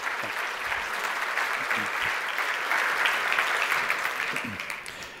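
Sustained audience applause at a technology conference as a speaker is welcomed to the stage, dense clapping steady and loud throughout with a faint crowd murmur beneath.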